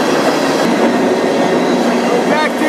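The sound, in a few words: freight train running, clickety-clack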